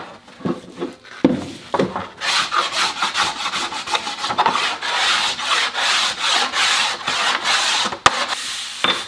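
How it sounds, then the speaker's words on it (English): Hand scraping of a wooden Telecaster guitar body blank, a steady run of rasping, rhythmic strokes across the wood surface, close and fairly loud, with a few tool knocks at the start. "I'm going to go back and scrape this"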